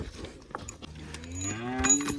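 A cow moos once in a long, low, rising call close by, preceded by a few faint knocks and shuffles.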